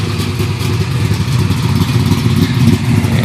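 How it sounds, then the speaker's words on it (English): A 1957 Chevrolet with a V8, hot cam and MagnaFlow mufflers idles with a loud, steady, low exhaust rumble, close by and continuous with no talk. "Hear a nice little rumble from the MagnaFlows"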